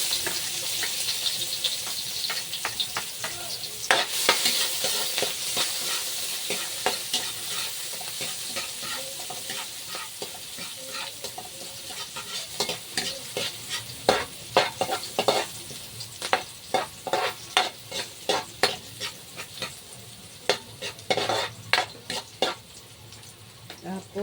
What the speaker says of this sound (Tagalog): Magigisa tayo. Ayan, isa-gisa.